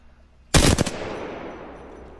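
Loud burst of automatic gunfire in a video game, a rapid rattle of several shots lasting under half a second, then a long fading echo tail with no talking.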